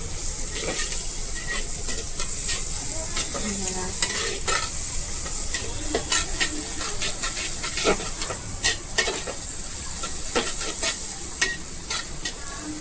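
Onions fry toward brown in a pan for matka chicken, a continuous crackling sizzle broken by frequent sharp clicks and scrapes of a stirring spoon against the pan, and no speech.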